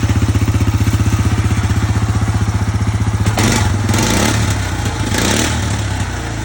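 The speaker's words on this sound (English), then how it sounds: "we're gonna be doing something about this exhaust on this foiler here because it sounds terrible" A close, loud single-cylinder ATV engine with a rotten muffler idling with a rapid rattling exhaust pulse, then revving up into a rougher, clattering roar.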